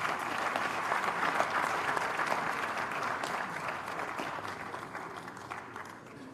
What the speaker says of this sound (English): A round of applause for her as she comes.